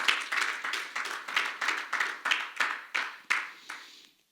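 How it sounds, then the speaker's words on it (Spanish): Rhythmic group clapping from a church congregation, about eleven steady claps in an even beat, close and fairly loud, stopping abruptly near the end. "Dale un aplauso al Rey."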